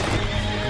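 A horse whinnies in the Red Dead Redemption 2 video game, a loud, close, continuous neigh that fills the short moment with no talking over it.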